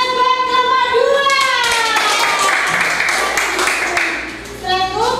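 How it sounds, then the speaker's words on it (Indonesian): A class of children applauds a group, with broadband clapping filling most of the stretch while children's voices chatter and call out over it, then fade near the end. "kita beri aplaus buat kelompok 2"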